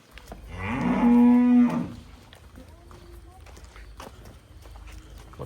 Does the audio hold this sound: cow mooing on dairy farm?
yes